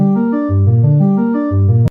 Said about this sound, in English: It's a patch from Nexus, and without EQ and reverb sounds like this.